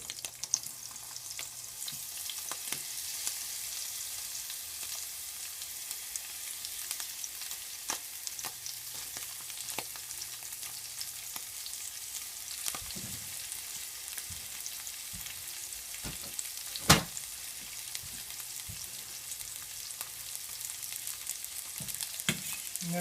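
Sliced potatoes frying steadily in a hot pan, a continuous close sizzle with occasional crackles and a few utensil clicks, no talking.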